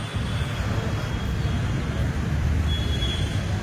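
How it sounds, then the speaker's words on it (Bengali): A metro train runs along an elevated track above a road near Jayadeva Hospital in Bangalore, heard as a steady low rumble blended with road traffic noise, constant and fairly loud throughout. "ওপর দিয়ে মেট্রো যাচ্ছে"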